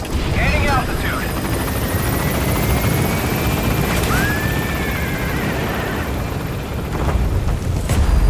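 Helicopter in the Metal Gear Solid V video game gaining altitude after an aborted landing, a loud steady rotor drone with a rising whine, while radio-style voices talk over it.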